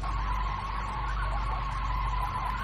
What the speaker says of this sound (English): That car is making some weird skinny noises.